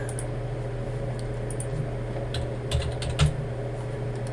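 Computer keyboard typing: scattered, irregular key clicks over a steady low electrical hum, with no talking.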